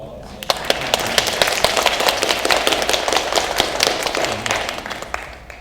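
A school board meeting audience gives a round of applause for Dr. Scott, with crisp, scattered hand claps building into steady clapping that carries through several seconds before thinning out.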